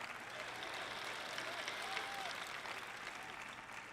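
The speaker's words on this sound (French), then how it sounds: "je suis heureuse que vous applaudissiez" Steady applause from a church teaching audience fills the space, a dense even patter of many hands clapping at moderate distance.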